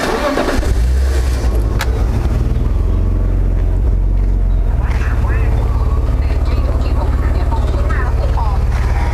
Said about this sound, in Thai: ให้ทุกท่านฟังเสียงท่อกันนะครับ